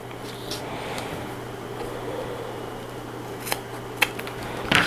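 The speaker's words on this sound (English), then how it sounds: "I can go ahead and trim off the edges here." Scissors trim the edges of jacket fabric in a quiet sewing room, a few soft, sparse snips over a low steady hum and ending in a closer cluster of cuts.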